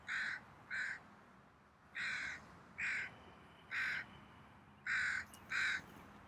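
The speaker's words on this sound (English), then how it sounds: "You might be hearing the birds in the background." Crows caw repeatedly outdoors, harsh calls in short pairs and single bursts, fairly clear at moderate distance with quiet pauses between.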